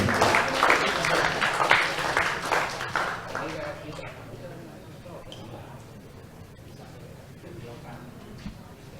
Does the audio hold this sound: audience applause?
yes